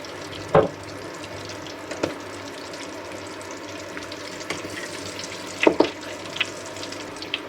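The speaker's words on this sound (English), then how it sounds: "make sure to fry on low heat" Homemade egg rolls frying in oil over low heat, a soft continuous sizzle with occasional sharper pops and clinks from handling, steady and fairly close.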